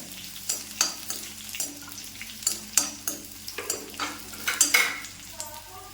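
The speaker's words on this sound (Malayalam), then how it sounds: "നമ്മുടെ ഈ ചെറിയ ഉള്ളി നന്നായിട്ട് മൂക്കണം" Small onions and curry leaves frying in a pan for a spinach stir-fry, a spoon stirring with repeated scraping clinks over a soft sizzle, close and uneven in rhythm.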